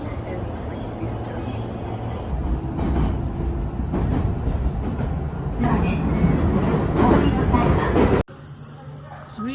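Steady low rumble and rolling rail noise inside a nearly empty train carriage travelling through the Japanese countryside, continuous and fairly loud, with a brief drop near the end.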